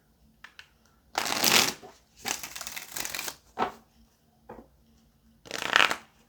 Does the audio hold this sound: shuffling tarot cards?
yes